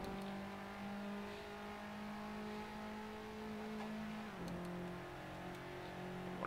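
In the racing game Assetto Corsa, a race car engine holds a steady high whine, then drops sharply in pitch at a gear change and climbs again, a continuous onboard drone with no talk.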